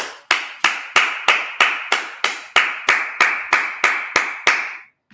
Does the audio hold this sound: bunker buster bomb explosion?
no